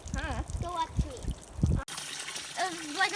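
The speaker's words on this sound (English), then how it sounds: "It's pressuring all that cold water on your feet." Cold water gushes and splashes over bare feet outdoors in hot weather, a steady rushing flow heard close up, with people talking over it early on.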